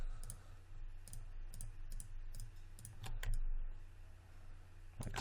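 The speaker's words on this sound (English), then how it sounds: "I'm going to hit the insert key" Computer keys are pressed while modelling in Maya 2017, giving a series of sharp, close clicks, a few spaced taps followed by a louder cluster near the end, over a quiet room hum.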